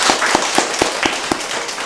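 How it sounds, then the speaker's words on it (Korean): Applause from a church congregation at an Easter Sunday service, welcoming a newly registered member: a sharp, evenly spaced run of claps, fairly near and loud, with no talk over it. "우리 박수로 환영해 주십시오"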